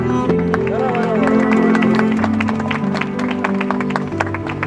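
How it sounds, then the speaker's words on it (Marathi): Congregation clapping hands at a Christian wedding, steady rhythmic claps over a sustained musical backing with voices in the room. "पिढे परत असा आपण टाळ्या वाजवूया"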